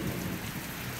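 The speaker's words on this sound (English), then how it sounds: "So it's just raining" Rain falls steadily outdoors, a dense, close, even hiss of drops filling the short stretch with no voices.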